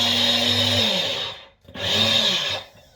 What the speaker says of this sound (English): little blast on the NutriBullet, and it's finer, it's more like flour